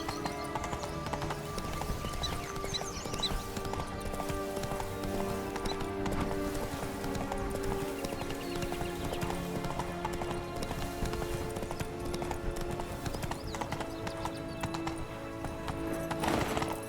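Geralt's horse Roach gallops in The Witcher 3, a continuous rapid clip-clop of hooves under game music and ambience, with a possible whinny partway through.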